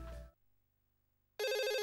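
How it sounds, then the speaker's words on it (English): A phone rings in the video game Another Code: R, a sudden loud electronic ringtone that follows a short burst of noise and a near-silent hum. "Phone call!"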